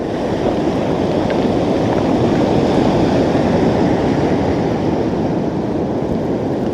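Sea waves wash in on Cullen Beach on the Moray coast after a storm, a loud, continuous broadband roar of surf close by with no talk over it.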